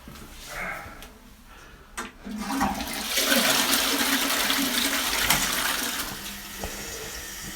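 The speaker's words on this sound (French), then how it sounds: "C'est simplement tirer la chasse d'eau." A filthy, long-neglected toilet flushed, a click then a loud rushing surge of water that roars steadily for several seconds before easing into refilling, close by with no talk.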